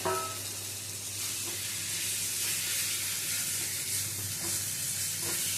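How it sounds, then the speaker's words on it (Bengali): Pointed gourd sautéing with sesame masala in a pan gives a steady close sizzle with soft scraping stir strokes throughout, no talking. "পটলটা দিয়েও মশলার সাথে কিছুক্ষণ কষিয়ে নেব"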